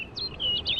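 A bird calling in the video game The Witcher 3: Wild Hunt, Blood and Wine: a few thin, high chirps and whistled trills, fairly clear over a faint ambient hum, lasting under a second.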